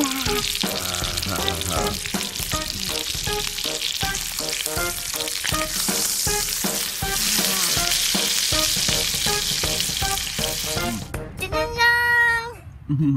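Steaks frying on a hot surface at a beach outing, a steady sizzle running underneath nearby voices and rhythmic tones, with a voice heard briefly near the end.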